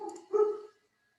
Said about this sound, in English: I apologize for the dog barking in the background.